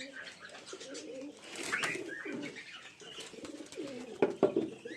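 Giribaz pigeons in a home collection cooing softly and repeatedly at close range, low burbling coos in uneven bursts with a few sharper calls near the end, no talking.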